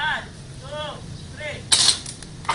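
A Stabby Tank toy gun firing at 500 fps on full auto gives a short sharp burst of pops, with whistly voice-like sounds before it, outdoors.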